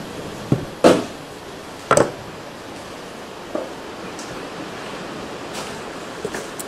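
Water rushes steadily as clinging fish eggs are rinsed out of a container, with a few sharp knocks and splashes standing out above the continuous wash.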